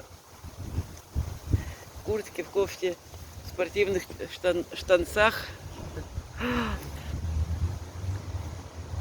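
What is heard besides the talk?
strong wind blowing outdoors, wind noise on the microphone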